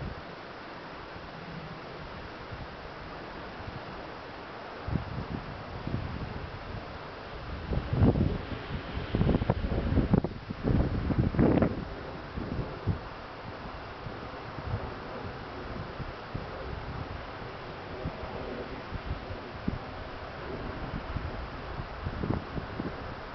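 Wind gusts outdoors near small Chinese-made wind turbines on a rooftop, a faint steady rush with louder buffeting bursts against the microphone in the middle.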